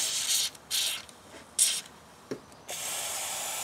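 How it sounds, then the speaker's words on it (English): An aerosol can of Terminator oil-based rust inhibitor sprayed into a seam on a Chevy Colorado truck, several short hissing bursts followed by a longer steady spray. "we need an oil-based product that creeps really well, which is Terminator. So if I spray in there like that"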